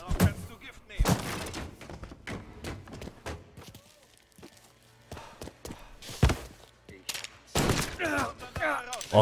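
Sharp revolver gunshots from the game Mafia 3 burst out repeatedly between quieter stretches, each a loud crack, with scattered thuds and footsteps in between.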